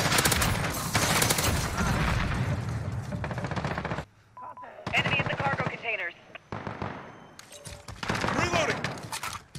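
Rapid gunfire in a shooter video game, bursts of automatic fire and shots crackling loudly with brief pauses, while a player talks excitedly over it.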